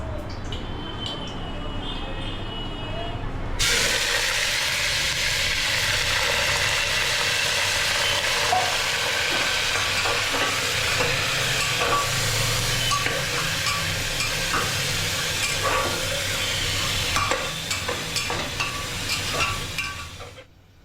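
Chicken added to a hot pan with garam masala powder, giving a steady loud sizzle and hiss that starts abruptly and runs on with light stirring, with a voice talking faintly beneath.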